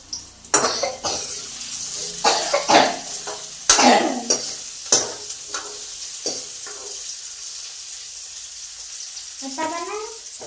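Chowmein is stirred and fried in a pan: a series of scraping, sizzling strokes with hissing bursts comes close and loud, then fades to a quieter simmer, with a cough and a brief voice near the end.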